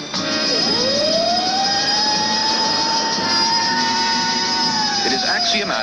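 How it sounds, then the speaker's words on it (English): A test-site siren winds up into a sustained wail, holds steady and loud for several seconds, then starts to wind down at the end over a background rumble. "Ed, would you give us a short blast on the siren?"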